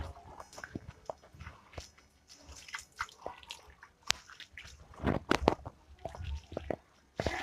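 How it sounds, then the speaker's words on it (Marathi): Close splashing and squelching as grated beetroot is washed and squeezed in water, irregular wet handling sounds with drips, no talk. "आपण स्वच्छ पाणी चांगलं टाकून दोन तीन पाण्याने धुवून घ्यायचं"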